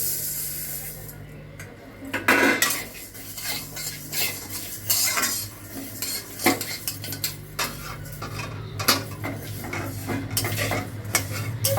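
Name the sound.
mung dal frying and stirred in a pan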